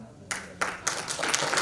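An audience at a national drama festival breaks into applause, starting with a few scattered claps and quickly building into dense, fairly close clapping that continues to the end.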